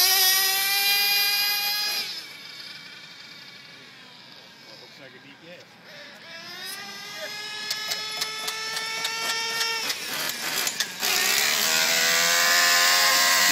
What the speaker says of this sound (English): Got the drill on.